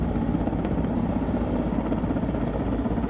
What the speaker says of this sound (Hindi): ये हेलीकॉप्टर पानी लेके जा रहा है झील से